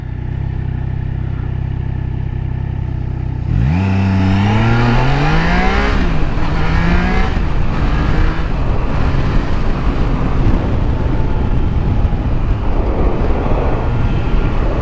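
A 2023 Triumph Trident 660 motorcycle engine idles steadily, then revs up loudly while riding, the pitch climbing and dropping through gear shifts, with close, continuous engine roar and wind under it.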